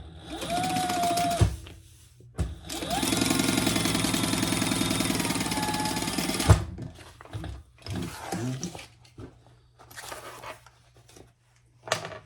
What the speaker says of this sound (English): top stitch on the lining 1/8 of an inch